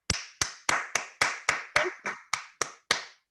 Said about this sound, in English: but I will also applaud.